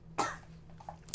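A single sharp cough from an adult viewer close to the microphone, followed by a faint quiet tail.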